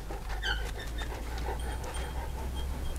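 A large Anatolian Shepherd dog pants close by with rapid, steady breaths and a few soft whimper-like tones, heard alone without talking.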